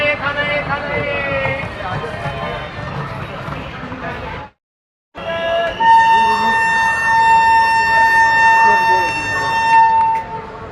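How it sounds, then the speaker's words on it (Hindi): A loud train horn blares in long sustained tones after a brief silence, following a stretch of busy noise and talking aboard a superfast train. "हमारी ट्रेन का हॉर्न है कि उस ट्रेन का हॉर्न है"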